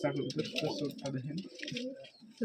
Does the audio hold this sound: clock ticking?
no